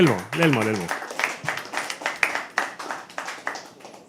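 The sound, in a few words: audience clapping for a poet at open mic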